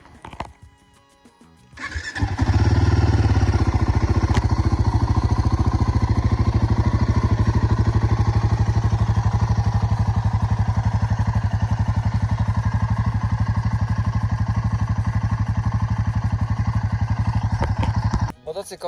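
A Royal Enfield Guerilla 450 motorcycle engine cranks and catches after a brief quiet start, then settles into a steady, loud, close idle that runs for about sixteen seconds before cutting off.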